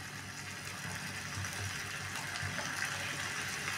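Water steadily poured into a pot of rajma in a home kitchen, a continuous close gushing stream that holds level for the whole stretch with no talk over it.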